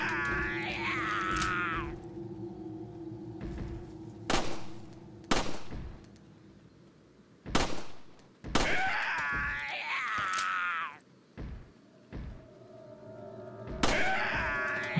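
Gunfire from shooting enemies in Resident Evil 4, with sharp loud shots in irregular bursts and single blasts, some metallic clanks and a groaning voice between them, with no speech.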